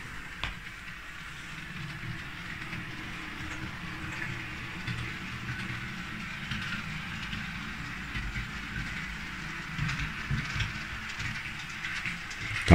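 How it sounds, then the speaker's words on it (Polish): A model locomotive runs steadily along a layout's track loop, giving a continuous low rumble with faint rhythmic clicking and whirring, heard alone at a modest distance. "lokomotywa nam zjeżdża na wewnętrzną pętlę"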